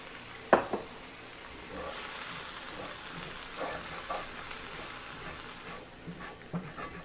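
Tofu chorizo sizzles in a pan as vinegar is added to deglaze, a soft steady frying hiss with a sharp knock near the start and faint scraping; no voices.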